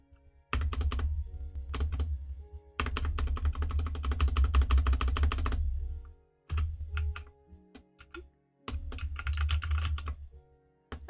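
Bursts of rapid typing clatter on a computer keyboard, loud and close, in several runs separated by short pauses, with repeated taps on a single key among them.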